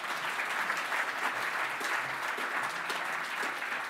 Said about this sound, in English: a round of applause for Scott